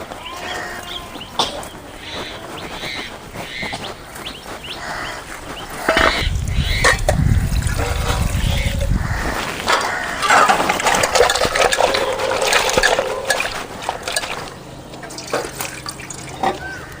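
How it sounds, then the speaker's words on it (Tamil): Water poured into a container in a home kitchen while making gooseberry pickle, a steady liquid splash running for a few seconds amid clinks of utensils. "தண்ணி ஊற்றிக்கலாம்."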